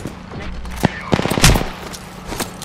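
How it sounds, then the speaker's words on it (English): Gunfire in the video game Apex Legends: a few sharp shots and a short rattling burst, with game voice lines and other in-game sounds around them. "Shield up. I'm getting shot."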